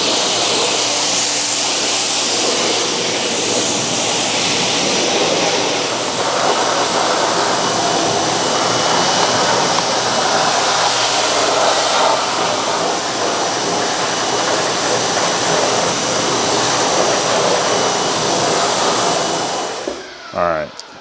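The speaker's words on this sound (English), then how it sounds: "use the pressure washer as your friend" A pressure washer sprays water over neglected car wheels in a steady, loud, continuous hiss and roar that runs without a break and cuts off near the end.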